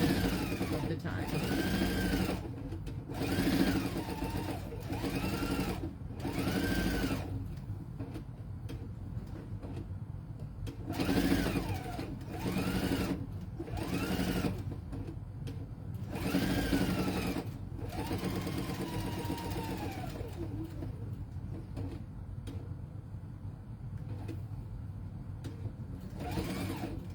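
A sewing machine with a stitch-in-the-ditch foot sews a flour sack towel in short repeated bursts of rapid ticking stitches, separated by pauses, while someone talks throughout.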